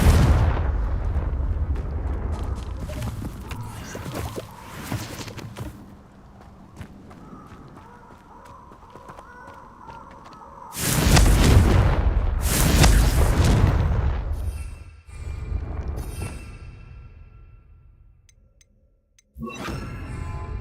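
Confringo fire spell blasts from Hogwarts Legacy, two loud booming explosions in close succession with a rumbling tail, followed by a sharper burst, over quieter game ambience.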